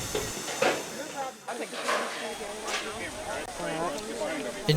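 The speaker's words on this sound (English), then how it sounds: "D&LN number 7 is a 440 American built by the Baldwin Locomotive Works" Baldwin 4-4-0 American steam locomotive D&LN No. 7, built 1897, hissing steam in bursts of varying strength, with a person talking over it throughout.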